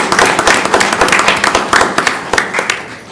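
Clapping from a small group at a city council meeting in Romulus, a dense patter of claps lasting a few seconds, fairly close and steady, with no speech over it.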